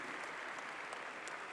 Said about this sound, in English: A round of applause for this gentleman